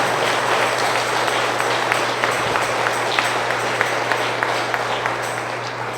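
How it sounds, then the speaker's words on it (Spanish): A congregation applauding during a Sunday Mass in a Spanish-language church, steady continuous clapping filling the space at moderate volume over a low background hum. "Vamos a brindarle un fuerte aplauso a Dios Todopoderoso."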